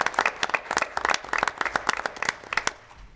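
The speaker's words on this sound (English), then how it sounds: "If we could give her another round of applause." Scattered applause from a school board meeting audience honoring a teacher, with distinct individual claps in an uneven rhythm rising and tapering over a few seconds, moderately close in a room.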